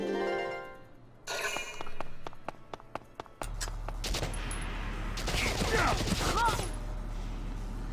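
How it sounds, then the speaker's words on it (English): A tank fires on a sniper in Valkyria Chronicles: a rapid string of sharp gunfire cracks, then a heavier sustained barrage with a low rumble underneath, loud and close. "Holy crap, a tank is shooting at my sniper."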